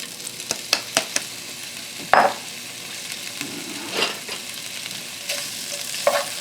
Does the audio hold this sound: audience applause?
no